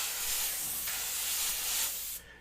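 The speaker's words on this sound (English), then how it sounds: "But if you spray and move," Airbrush spraying paint in short passes, a close, steady hiss that swells and dips as the brush moves, then cuts off sharply near the end.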